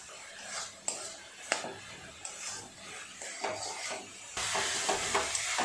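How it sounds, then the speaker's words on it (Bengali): A spoon stirs coconut filling in a hot pan, scraping steadily with a soft sizzle and occasional sharp clinks against the pan, close and continuous. "আর একটু নাড়াচাড়া করলেই পাকটা তৈরি হয়ে যাবে।"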